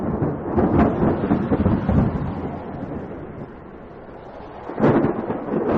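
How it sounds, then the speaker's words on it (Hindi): Heavy thunder rolls and rumbles over steady rain in a first rain of the season, loud and close, fading slightly at midpoint before a fresh deep crack and rumble near the end; no voices. "उनके लिए यह पहली बारिश थी जो उन्हें किसी अजूबे से कम नहीं लग रही थी।"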